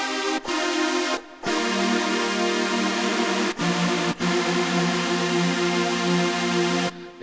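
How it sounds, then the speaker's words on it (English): A Roland JP-8000 synthesizer plays its thick, bright super saw sound, seven detuned oscillators stacked together, in sustained chords briefly cut by short gaps and then resumed, loud and alone. "which is the JP8000 instead. This is famous for its super saw oscillator"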